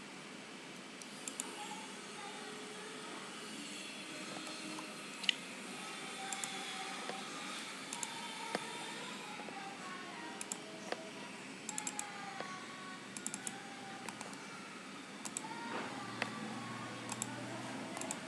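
Light clicking of a computer keyboard as someone types, scattered quick taps with irregular rhythm under a steady quiet background hiss.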